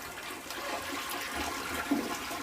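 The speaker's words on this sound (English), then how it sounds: "We'll just flush it for overall use." A toilet being flushed during a plumbing leak check gives a steady, close rush of swirling water that runs throughout with no talking.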